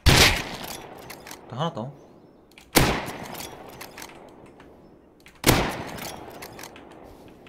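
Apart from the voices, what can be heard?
gunfire in the video game Rust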